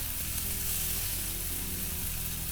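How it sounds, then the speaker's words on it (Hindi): Chopped tomatoes and softened onions fry over low heat in a pan, a dense, continuous sizzle close by with a low hum underneath and no speech. "ऐड कर देंगे 1/4 कप टमाटर। नरम होने तक भूनेंगे टमाटर को।"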